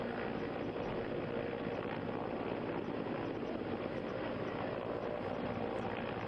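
An Indian Air Force rescue helicopter working over flooded ground during a cyclone gives off a steady, loud, broadband rotor and engine roar that holds unbroken from start to finish, with no voices over it.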